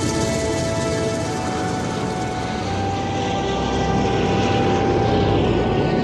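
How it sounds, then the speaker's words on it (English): A Lisunov Li-2 twin-propeller Soviet passenger aircraft runs its engines in a continuous, loud, even drone with a steady propeller hum, heard alone throughout. "Li-2 became the main aircraft of the Soviet civil fleet"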